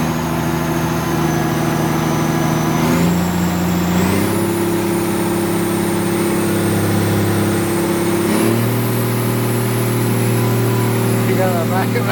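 A Case 4490 tractor engine runs loud and close, its steady drone stepping up in pitch through several revs and holding each higher speed, with voices speaking over it.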